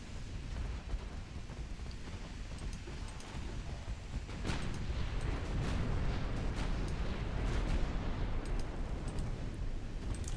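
Naval guns firing high-explosive shells in the Ultimate Admiral Dreadnoughts warship game, a dense rumbling barrage of booms and distant crackling blasts that swells after a few seconds and stays heavy throughout.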